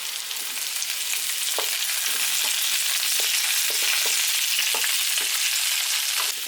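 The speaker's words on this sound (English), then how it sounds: "let me go over here and stir the sweet potatoes." Sweet potatoes being stirred in a hot pan while cooking a Thanksgiving dinner, with a steady loud sizzle and frying hiss throughout and repeated scraping clicks from the stirring utensil.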